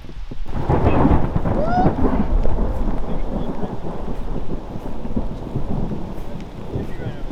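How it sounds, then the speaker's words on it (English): Rain falls steadily through a stormy outdoor scene during a World War II reenactment, a loud continuous hiss with low rumbles and bursts, like thunder, in the first seconds. "Yeah, Sawyer, it doesn't work too well in the rain."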